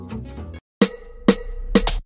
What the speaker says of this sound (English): And for the drum fill, I added a little drum fill.